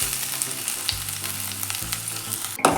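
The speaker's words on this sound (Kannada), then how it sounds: "2 ಹಸಿಮೆಣಸಿನಕಾಯಿ ಹಾಕಬೇಕು. ಫ್ರೈ ಮಾಡಬೇಕು ಕೊಂಚ." Tomato and green chillies sizzle and fry in a pan for mushroom masala, a dense close crackle that runs throughout, with a brief stirring clatter near the end.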